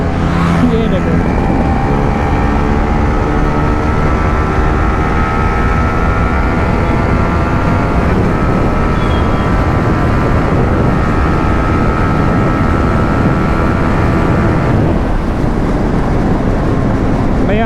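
A Yamaha MT-15 motorcycle on stock grips and Reise TraceR tyres rides along a city street, its engine droning loud and steady with constant road and wind noise through the whole run.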